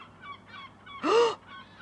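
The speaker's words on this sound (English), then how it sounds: "Kilo, look at all them seagulls." A single loud gull call rises briefly out of quieter, fainter bird calls nearby, a short honking squawk in an outdoor setting behind a caravan.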